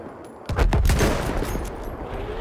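Gunfire in the Battlefield 1 video game, a burst of loud, rapid shots kicking in after a brief quiet start, then ringing and rumbling as the firing continues at a lower level.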